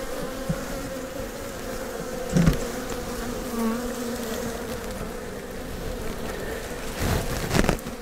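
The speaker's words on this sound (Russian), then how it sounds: "растревоженный улей" A disturbed honeybee colony clustered in its hive during November frost gives a dense, steady, loud drone throughout, with occasional knocks and handling bumps near the hive.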